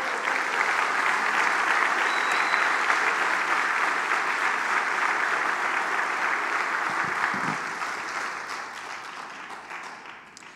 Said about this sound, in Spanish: Más fuerte ese aplauso.